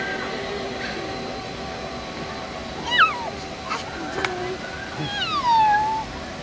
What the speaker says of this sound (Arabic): هنيك في كلب مثل القطة